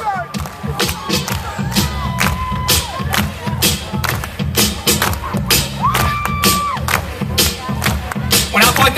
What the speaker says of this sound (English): Who can get the loudest? Go clap it up.